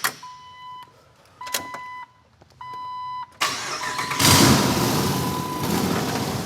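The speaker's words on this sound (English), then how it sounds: "that's to hear this Hemi come to life." Hemi V8 swapped into a Jeep TJ: chimes and clicks as the ignition is keyed, then the engine cranks and fires into a loud, rough, steady idle close by.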